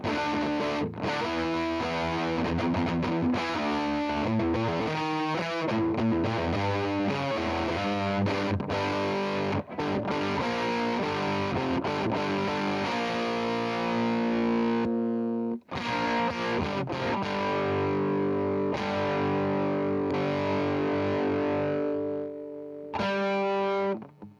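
Heavily distorted electric guitar through stacked inexpensive Playwell distortion pedals, humbucker pickup, playing dense, saturated chords and riffs, loud and continuous with a few brief pauses, no talking.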